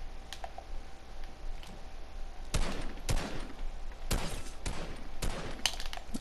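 Variant Infantry Rifle fire in Fortnite Battle Royale: sharp, spaced single shots cracking out every half second or so after a quieter opening, with faint clicks and no talking.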